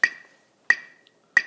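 A metronome ticking at 90 beats a minute gives three crisp, evenly spaced clicks, close and clear against silence.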